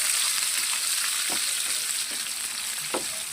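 Garlic, cinnamon and chopped onion sizzle steadily in a pan, a continuous frying hiss with a few soft scraping stirs from a spoon, close and without speech.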